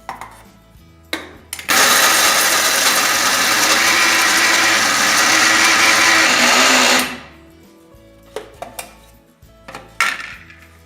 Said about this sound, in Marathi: आणि मिक्सरमधून बारीक करून घ्यायचं हे